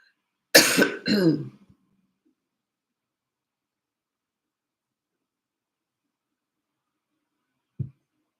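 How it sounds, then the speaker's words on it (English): Two quick coughs close to the microphone, then long silence broken by one faint soft thump near the end. "sorry, I'm just worried about coughing again."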